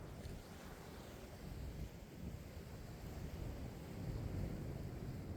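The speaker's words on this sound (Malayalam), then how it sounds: "നല്ല രീതിക്ക് തിര അടിക്കണത്." Sea waves break near Chellanam harbour in a low, rolling surge mixed with wind rumble against the microphone, a continuous churning wash that swells slightly toward the end.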